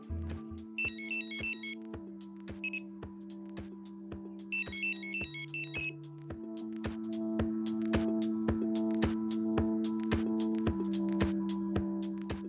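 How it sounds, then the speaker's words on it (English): Three sustained low electronic alarm tones from an R4 head unit step downward over a steady buzzing drone, with bursts of high warbling beeps near the start and repeated sharp clicks. "you will notice 3 descending low tones which differ to that of a forward take"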